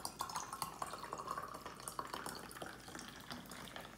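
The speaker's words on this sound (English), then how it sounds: "Then I just threw on some sparkling water." Sparkling water poured into a cranberry juice drink fizzes and crackles, a quiet stream of tiny bubbling pops and drips with a light ringing tone from the glass, continuous and close.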